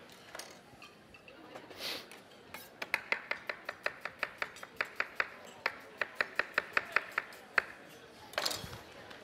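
A knife chops onion quickly on a cutting board, a rapid run of crisp, close taps after a few scattered cuts, while a voice talks in the background.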